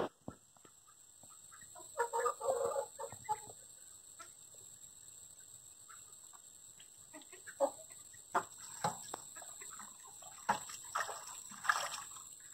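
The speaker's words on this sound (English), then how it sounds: "See, there's another chicken waiting in line to take that dust bath." Chickens in a backyard flock clucking in short, scattered bursts, nearby but fairly quiet, with a faint steady background hiss and no talking.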